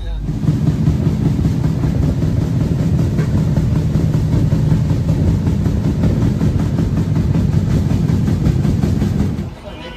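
The Ruposhi Bangla Express, an intercity train of Bangladesh Railway running between Benapole and Dhaka, rumbles steadily as heard from inside a carriage, with a continuous loud roar and faint rhythmic clatter that fades slightly at the end.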